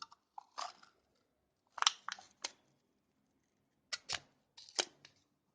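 Crinkly tearing and peeling bursts from a heat-sealed plastic lid being pulled off a yogurt cup sealed on a manual electric cup-sealing machine, in several short close bursts with pauses, no talk.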